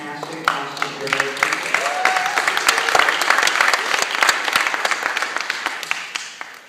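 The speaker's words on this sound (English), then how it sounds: "Round of applause for this fantastic costume creator." A crowd at the Star Trek at 50 panel at San Diego in 2016 breaks into applause for a costume creator, the clapping swelling quickly into a dense, lively wash with some scattered voices beneath.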